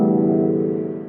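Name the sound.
guitar strum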